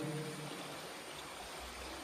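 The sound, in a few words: water stream babbling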